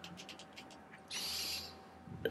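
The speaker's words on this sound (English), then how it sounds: "we're sending in the owl" An owl screeches in the prehistoric video game Far Cry Primal, a loud harsh rasping cry lasting about half a second after a run of soft chirps, ending with a short sharp click.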